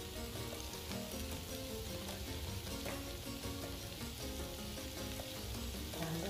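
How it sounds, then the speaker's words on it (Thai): Spaghetti sauce with tiger prawns, black pepper and salt is stir-fried in a pan. It gives a continuous, even sizzle and crackle throughout, close and steady, with no voices. "ผัดให้เข้ากันค่ะ"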